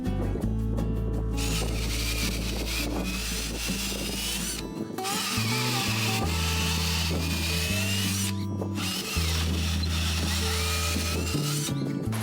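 A power drill drives bolts into wooden supports of a raised vegetable planter box, with loud sustained whirring that shifts pitch as the motor steps up and down across several runs.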